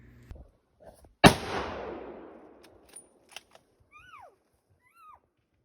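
A single loud rifle shot aimed at an elk during a hunt cracks sharply and then rolls away in a long fading echo, followed by quiet outdoors with a few faint clicks and distant bird chirps.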